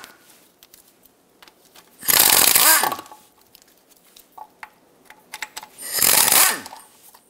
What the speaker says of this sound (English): Now remove all the 13 millimeter bolts that hold this pan onto the transmission.